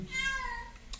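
A pet cat lets out a single drawn-out meow that slides downward, close and fairly soft, followed by a brief quieter chirp at the end.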